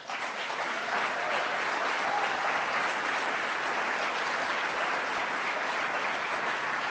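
Audience in a legislative chamber applauds during a Montana State of the State address, steady full applause holding at even loudness throughout.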